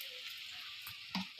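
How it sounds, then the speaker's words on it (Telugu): Stuffed eggplants frying in oil for gutti vankaya curry, a brief, soft, continuous sizzle heard close up, with a small bubbling pop near the end. "చూడండి, నూనెలో బాగా వేగుతాయి అన్నమాట."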